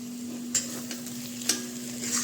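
Ground paste of mustard, garlic, ginger and cumin frying in a pan for a fish curry, with a steady soft sizzle and a few sharp stirring scrapes at regular intervals, close by with no talking.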